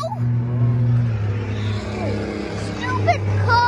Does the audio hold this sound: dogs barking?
no